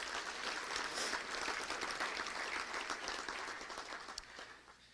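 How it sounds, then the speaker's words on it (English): Audience applause fills a Little Rock Touchdown Club luncheon for the event sponsors, a steady wash of many hands clapping that fades slightly toward the end. "Let's give all of them a round of applause, if you don't mind"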